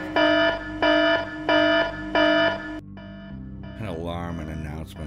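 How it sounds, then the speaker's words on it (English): Alarm blaring in an audio drama: four loud, evenly spaced electronic tones in a pulsing pattern, then a lower steady drone and a brief burst of garbled, processed sound. "An alarm and announcement started to blare, interrupting me"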